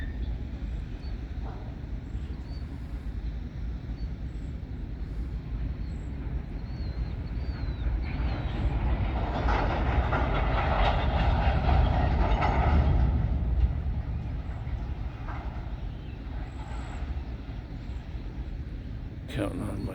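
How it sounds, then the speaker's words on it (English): A train in the background, being assembled, starts to move along, giving a low rumbling rail noise that swells in the middle and then eases back, heard at a distance under outdoor ambience. "Catch a glimpse of that train in the background, starting to move along."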